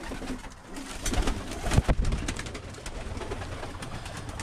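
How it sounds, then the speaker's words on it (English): Birmingham Roller pigeons in their loft give soft, continuous cooing and low murmuring calls, with scattered rustling and a brief louder burst midway, heard fairly close throughout. "here's just a quick glance of all the birds"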